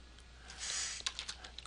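A file name is tapped out on a computer keyboard, a quick run of close, crisp keystrokes lasting about a second with a brief smear of clatter at the start.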